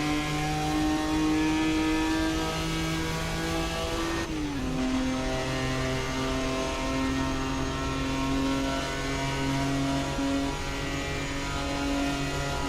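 A 1967 Jaguar E-Type race car engine in Assetto Corsa on the Le Mans circuit drones steadily at high revs, dropping pitch once as it shifts under braking, loud and continuous with no talk.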